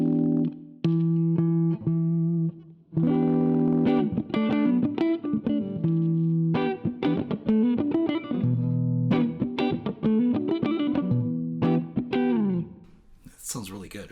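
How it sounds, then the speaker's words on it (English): A Donner DLP-124 electric guitar plays through a clean tone with a little ambience, in strummed chords and picked notes with short pauses between phrases, loud and close with a light reverb tail. "we're doing this with a clean tone with just a little bit of ambience to it to thicken it up a little bit"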